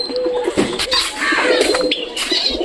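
Pigeons coo inside a pigeon loft, soft repeated calls mixed with chirps and occasional wing flaps, steady and close throughout.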